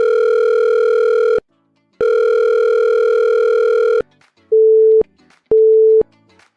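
Telephone line tones play before a voicemail greeting: two long, loud steady tones separated by a pause, then two shorter, lower beeps, with no voices.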